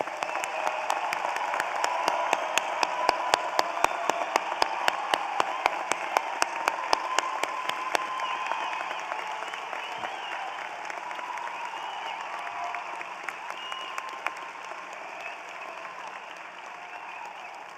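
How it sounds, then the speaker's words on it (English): A big crowd applauds graduates at a spring 2022 graduate hooding ceremony, with sustained clapping in a large hall, crisp individual claps standing out early before the sound gradually thins toward the end. "Let's give them another round of applause."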